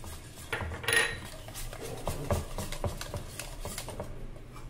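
A spoon mixes gram flour (besan) into kadhi, giving soft, quick clinks and scrapes against the vessel in an uneven rhythm. The sound is close but fairly quiet, with no talking.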